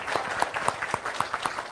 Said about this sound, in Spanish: una salva de aplausos para ella